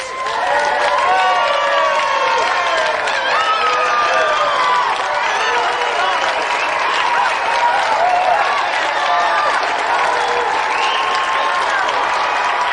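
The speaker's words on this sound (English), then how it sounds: "Give him a round of applause." Studio audience applause and cheering on the 1993 GamesMaster TV show, a dense, loud, steady wash of clapping with whoops and shouts running throughout, with no talk over it.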